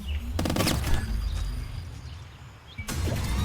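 Rapid bursts of gunfire in the video game Squirrel with a Gun, a loud volley near the start, steady noise between, and another burst near the end.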